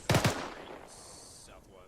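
Rapid gunfire in a military video game: a quick cluster of three or four close, sharp shots, followed by a fading tail while a voice briefly speaks.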